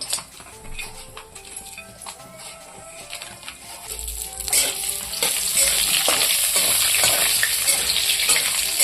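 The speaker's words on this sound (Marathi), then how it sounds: "आता पहिल्यांदा आपण हे बदाम, काजू आणि मनुके हे तळून घेऊया त्याला।" Almonds, cashews and raisins fry in ghee in a kadhai, starting with quieter clinks and stirring scrapes, then swelling into a loud, steady sizzle with continued stirring.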